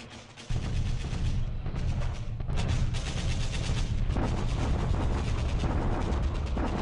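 Naval bombardment in the computer war game War in the Pacific, heard as a dense, continuous roar of rumbling shellfire and explosions that starts abruptly and stays loud throughout, with no talking.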